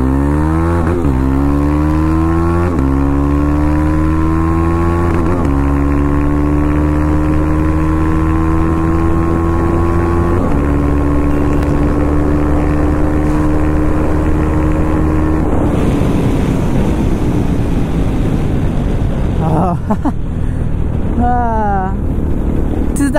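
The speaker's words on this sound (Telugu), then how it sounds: "మీకు ఒక్కసారి ఇక్కడ నుంచి అక్కడికి పుల్ ఇచ్చి చూపిస్తా what this bike can do." A KTM Adventure 390 motorcycle accelerates hard through several gear changes, its engine note climbing in pitch before each shift, then easing off near the end, loud and close.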